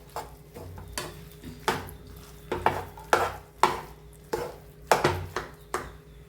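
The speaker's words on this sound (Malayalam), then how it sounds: "അപ്പൊ നല്ലോണം ഒന്ന് മിക്സ് ചെയ്തിട്ട് എടുക്കണം" Tapioca and egg being mixed in a pan for a Thrissur dish, a steady run of spoon scrapes and taps against the pan, close and alone.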